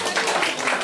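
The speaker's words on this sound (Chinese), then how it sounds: "快点，来帮忙拍手" A small group of children at a hands-on dry-ice science class clap briefly on cue, a short burst of scattered, soft applause with voices mixed in.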